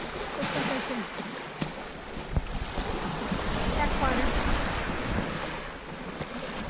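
Waves wash steadily against the Lake Superior shore at Copper Harbor, a continuous broad roar of surf mixed with gusting wind buffeting the microphone, with no voices.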